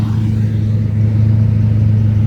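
An automatic-transmission truck with a PTO winch and locked-up rear brakes revs in reverse, a steady, loud low engine drone with a strong hum, close by and without speech.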